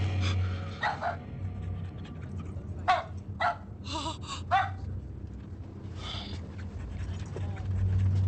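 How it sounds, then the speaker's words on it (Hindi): A dog pants and gives a few short yips and whimpers over a steady low hum and background chatter in a passenger train carriage, the breathing rhythmic and close throughout. "कितना बदसूरत कुत्ता है।"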